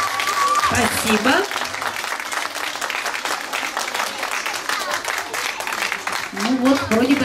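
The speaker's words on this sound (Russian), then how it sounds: "Ну вот, вроде бы аплодисменты уже стали, да, поактивнее." Audience at a dance competition final bursts into sustained applause, a dense wash of clapping from a large crowd that continues steadily throughout, with a snatch of music at the start.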